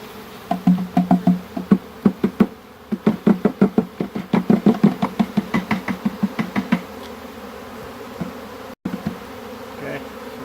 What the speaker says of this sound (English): Now what we're going to do is we're going to shake these bees in here.